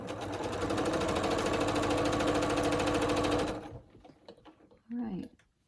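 A sewing machine stitches fabric for quilt piecing with a fast, even mechanical whir for about three and a half seconds. It stops abruptly, then soft handling clicks follow and a person speaks briefly.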